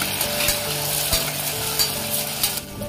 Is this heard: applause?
no